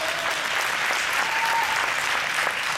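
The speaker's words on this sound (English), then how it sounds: "big round of applause." Dense, steady applause fills a graduation ceremony, many hands clapping continuously at an even volume from start to finish.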